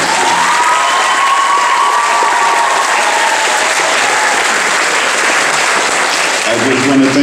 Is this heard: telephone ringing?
no